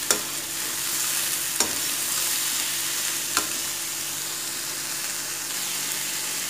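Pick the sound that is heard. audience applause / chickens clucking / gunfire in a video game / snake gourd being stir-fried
snake gourd being stir-fried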